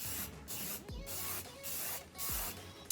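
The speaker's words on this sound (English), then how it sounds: "I'm going to do one final layer with my Tresemme Micro Mist Hairspray." Tresemme Micro Mist hairspray sprayed over curled hair in a series of short, close hissing bursts separated by brief gaps, quiet overall.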